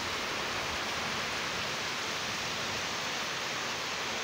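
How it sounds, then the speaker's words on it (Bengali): Steady, dense hiss of heavy rain pouring continuously with a light wind, loud and even throughout with no voices or breaks. "খুব বৃষ্টি হচ্ছে, প্রচুর বৃষ্টি, হালকা একটু বাতাসও আছে।"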